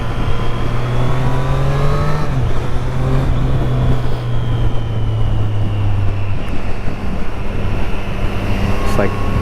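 A 2024 Triumph Street Triple RS drones at steady engine speed while being ridden, its exhaust note running under heavy wind rush, with pitch dropping slightly twice as the rider eases off.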